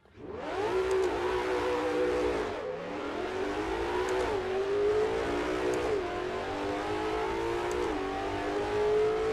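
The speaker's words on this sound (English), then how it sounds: "It sounds like a really crazy V8" A V8 car engine revs hard and loud, its pitch repeatedly climbing through gears with brief dips between shifts.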